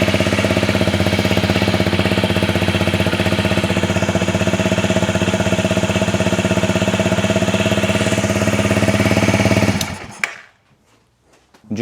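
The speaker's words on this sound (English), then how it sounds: "Then we are going to run the bike for a few seconds, get the oil circulating." A Honda CRF250 dirt bike engine runs for a few seconds after an oil change, a loud, steady, close idle that cuts off abruptly near the end.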